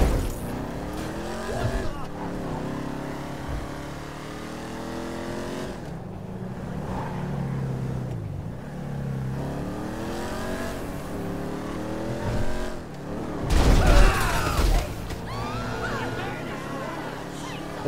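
A car driving in the video game GTA Online, engine revving and shifting through gears in rising sweeps, with a burst of tire squeal and louder roar near the end, while people talk over it.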